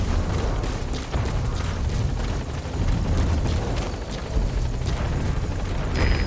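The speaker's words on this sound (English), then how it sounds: "All right, the chopper's touching down." In the Metal Gear Solid V game, a support helicopter touches down at a landing zone, its rotor roar a dense, continuous wash with beating pulses, loud and steady throughout.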